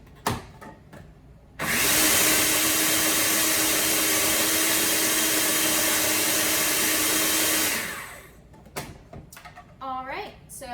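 A large food processor blends pesto in a kitchen, a loud continuous motor whir lasting about six seconds, starting and stopping abruptly, with brief clatter and talk around it.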